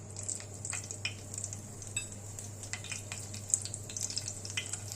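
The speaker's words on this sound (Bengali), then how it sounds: "আমি কটা লঙ্কা ভেজে নিচ্ছি।" Green chillies frying in hot oil after a batch of shrimp fritters, giving a steady, fairly quiet sizzle with faint scattered crackles and a few light clinks of a utensil against the pan, with no talking.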